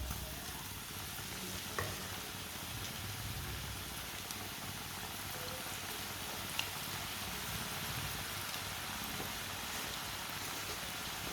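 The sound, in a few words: potato chips frying in hot oil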